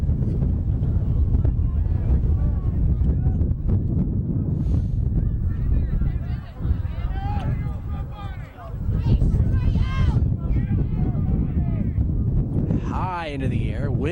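Wind buffets the microphone at an outdoor youth soccer match, a steady low rumbling roar throughout, with a commentator talking over it.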